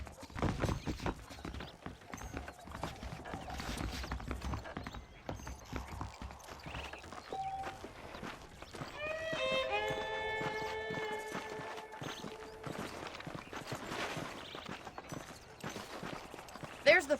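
Horse hooves clip-clopping in Red Dead Redemption, a steady, quiet walking rhythm that runs throughout beneath game dialogue and music, with a melodic tone in the middle stretch.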